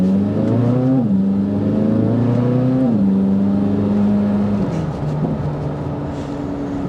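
A 2024 Chevrolet Corvette Z06 in sport mode accelerates hard, its engine note climbing steadily through several gear changes, loud and close, with a drop in pitch at each shift.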